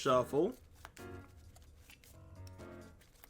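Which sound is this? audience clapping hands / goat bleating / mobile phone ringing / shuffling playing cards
shuffling playing cards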